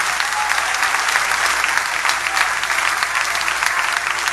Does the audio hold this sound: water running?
no